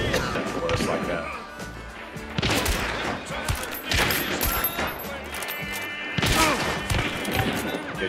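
Rapid gunshots in a hunting-themed game crack out in several loud bursts amid crashing impacts, with voices talking excitedly over the gunfire.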